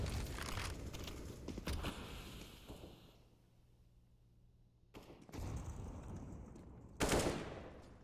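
Rapid automatic gunfire bursts in a Counter-Strike match on the Mirage map, loud at the start, dropping to a quiet lull, then returning with fresh volleys and a sharp burst near the end.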